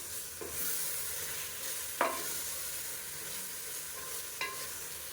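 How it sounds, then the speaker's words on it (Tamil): Onion and mint paste with ginger-garlic paste sautéing in oil for Madurai-style mutton biryani, a soft continuous sizzle with a few distinct spoon scrapes against the pan, no speech. "இப்போ நம்ம அரைச்சி வச்சுருக்க இந்த வெங்காயம் புதினா பேஸ்ட்டு இஞ்சி பூண்டு அது எல்லாத்தையுமே இதிலே சேர்க்கலாம் சேர்த்துட்டு இதுவும் நல்லா பச்சை வாசனை போகிற அளவுக்கு வதக்கும்"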